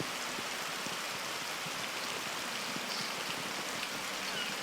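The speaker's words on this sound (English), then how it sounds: "The rain shower ends." Rain shower at a riverbank, a steady close hiss of falling drops pattering on leaves and water, even and unbroken throughout with no voices.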